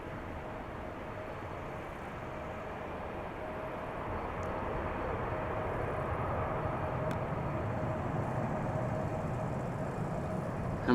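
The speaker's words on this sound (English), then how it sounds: "777 freighter." A China Southern Cargo Boeing 777 freighter takes off at Amsterdam Schiphol, a steady broad jet roar that slowly builds in loudness over several seconds, with no talk.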